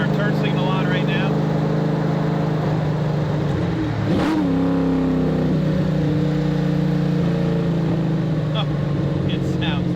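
A Factory Five 1965 Cobra replica's V8 burbles at a steady cruise, then revs hard with a rising roar around the middle before settling back to a loud, throaty drone, close up from inside the car.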